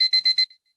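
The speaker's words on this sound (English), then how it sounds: "Why is there beeping in this room?" An electronic alarm beeps four times in quick, evenly spaced bursts inside a room, then falls silent.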